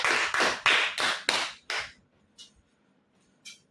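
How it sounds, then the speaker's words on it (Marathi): Six sharp, evenly spaced claps ring out close by for a lucky draw winner, followed by silence with a couple of faint taps. "जोरदार टाळ्या"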